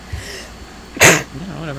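One sharp, loud sneeze bursts out close by, brief and explosive, amid casual conversation with voices talking before and after it.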